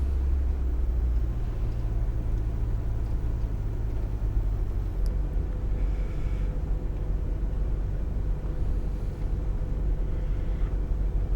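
A small minibus engine drives steadily in Tourist Bus Simulator on a road near Cofete and Costa Calma, a low continuous rumble with a faint hum and no talk.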